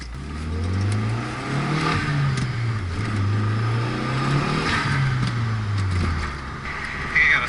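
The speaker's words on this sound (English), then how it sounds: "I got a stuck lifter." Car engine with a stuck or collapsed lifter revving up and down in repeated swells, loud and close, with no one talking.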